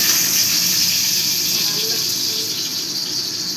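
Salted hot oil sizzles in a pan as cooking begins for a kochur loti (taro stolon) dish, a steady, close, bright hiss that holds without pause, with no voices.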